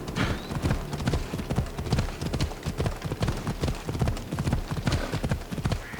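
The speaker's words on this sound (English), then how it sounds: "Let's speed things up a little bit and go by horse." Horse hooves clip-clop steadily at a riding pace in Assassin's Creed Odyssey, a close, even rhythm of hoofbeats with no talking over them.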